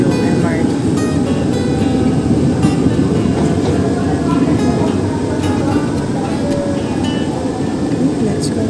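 Onboard a crowded, air-conditioned MRT train in Manila, a loud steady rumble of wheels and car noise fills the interior while people talk over it.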